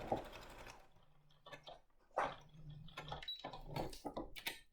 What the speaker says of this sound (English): then I'm reverse sewing